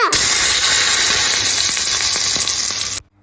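Mustard seeds and curry leaves tempering in hot oil for moringa leaf chutney, giving a loud, steady sizzle and splutter that stays close and constant for about three seconds, then stops abruptly.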